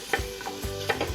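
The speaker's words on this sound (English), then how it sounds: "I can hear that the oil's starting to get a little bit hot. You hear that little sizzle?" Chopped onion dropped into hot olive oil for a carrot parsnip soup, giving a close, faint sizzle with brief crackling bursts and the clatter of stirring.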